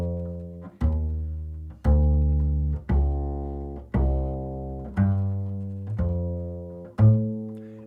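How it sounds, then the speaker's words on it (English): Jazz bass walks a two-beat feel over a blues, eight evenly spaced half-note plucks with warm low tones, each note ringing until the next, played alone and fairly quiet. "So a two beat on a blues is going to sound something like this."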